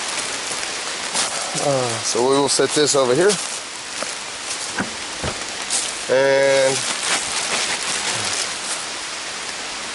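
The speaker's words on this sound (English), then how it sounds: "And here comes the rain." Steady rain pattering on a bushcraft campsite, a constant hiss running under the whole stretch while someone talks briefly at intervals.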